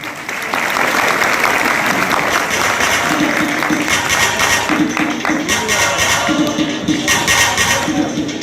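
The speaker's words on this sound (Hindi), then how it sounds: "एक जोरदार ताली।" Sustained, loud applause from a large audience at a business-plan meeting held on a hospital campus, steady broadband clapping that fills the whole stretch with some crowd noise underneath.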